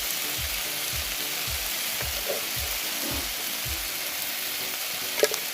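Cumin seeds hit hot oil in a frying pan for a rui fish curry, giving a steady, close sizzle with faint stirring scrapes and no voices.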